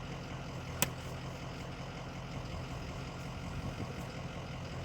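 A van engine runs at a steady low idle after being switched back on, with its constant rumble filling the short stretch, plus one sharp click near the start and no voices.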